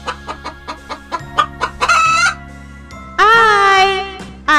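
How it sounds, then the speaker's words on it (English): A hen clucks in a quick series of short, close calls, then lets out a couple of longer, drawn-out squawks. "H for hen. Hen means murgi."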